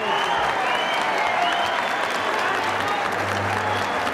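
Sustained, dense applause from a crowd greeting Colombian president Samper after the capture of the Cali cartel leaders, steady and loud throughout with a low voice faintly beneath.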